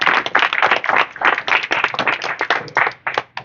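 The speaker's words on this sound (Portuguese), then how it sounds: "Peço uma salva de palmas para ele." Applause from a small audience at an academy of letters induction ceremony in Miraí, honouring the academy's founder, with distinct individual claps in uneven bursts and no talking over it.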